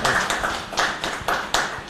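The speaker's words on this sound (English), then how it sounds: "Please clap for him." An audience at a digital marketing workshop claps steadily, with fairly close, dense hand claps and a few stronger accents spaced about every quarter second.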